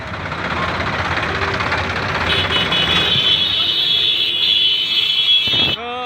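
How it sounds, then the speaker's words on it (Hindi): Long line of tractors in a farmers' Republic Day tractor parade, a loud continuous engine drone and rumble filling the clip, with a high whine near its end and no speech. "ट्रैक्टर की लंबी कतार"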